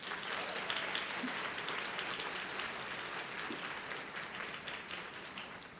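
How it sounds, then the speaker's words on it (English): Audience applause at a Texas Woman's University nursing pinning ceremony for graduates, a dense steady wash of many hands clapping that holds evenly through the whole stretch, moderately distant and with no one talking. "you need to give them a round of applause"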